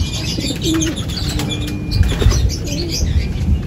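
Wings flap and flutter close by as a racing pigeon comes in to land during a race, with faint cooing and chirps under a busy outdoor background.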